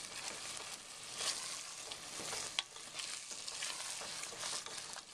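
Caramelized onions for French onion soup are stirred in a pan, giving a steady soft sizzle with repeated scraping strokes and one sharper clack midway, close and fairly quiet, without talk.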